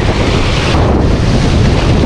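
Strong wind roars steadily across the microphone on an island, a loud continuous rush with deep buffeting rumble and no voices.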